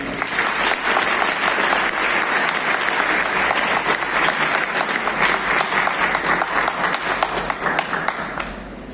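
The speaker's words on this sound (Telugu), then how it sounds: "మళ్ళీ ఒకసారి చప్పట్లు కొట్టాలంట" An audience at the Swami Vivekananda Jayanti award ceremony in Anaparthi breaks into loud, sustained applause, with dense clapping filling the hall for the whole stretch and tapering slightly at the end.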